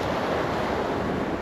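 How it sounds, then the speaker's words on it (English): Ocean waves breaking on a shore make a steady, loud, rushing roar with gusty wind noise on the microphone, continuous throughout. "you probably can't hear it over the waves now"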